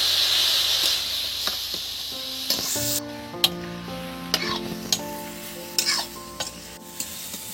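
Water poured into a pan of frying spice masala gives a loud burst of sizzling hiss that fades to a gentler simmer, with several sharp clinks of a spoon stirring against the pan, close up.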